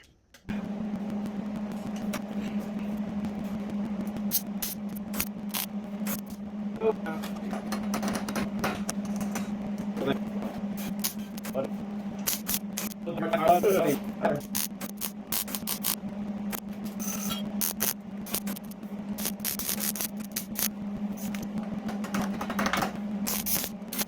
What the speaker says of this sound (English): wondering why in the world I am welding in little dots